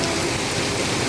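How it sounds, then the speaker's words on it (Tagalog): Heavy rain pours in Taiwan, a dense, even hiss of downpour spread across the whole clip, loud and continuous with no distinct drops or voices. "Malakas ang ulan din sa Taiwan guys."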